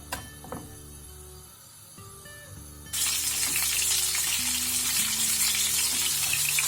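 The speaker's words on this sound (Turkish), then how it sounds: "Şimdi kabaklarımı soteleyeceğim." Zucchini sautéing in about half a tea glass of olive oil, bursting into a loud, steady sizzle after a few quiet kitchen clatters, then hissing continuously up close.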